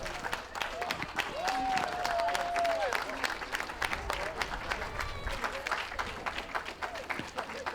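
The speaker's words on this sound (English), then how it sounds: "This last chance to give a big cheer." Audience applause and cheering at a dog show in Bournemouth, a dense clatter of many hands clapping at moderate distance, holding steady throughout with an announcer's voice over it.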